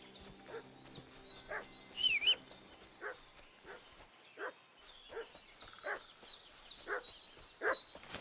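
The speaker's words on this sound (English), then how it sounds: "What's that dog making such a fuss about?" A dog barks and fusses in short, repeated bursts, roughly one every half second to second, at moderate distance over a faint background, with no talking.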